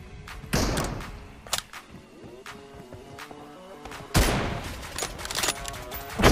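M24 sniper rifle shots in a 1v1 PUBG-style mobile game match, a few loud isolated cracks spaced seconds apart amid softer game sounds.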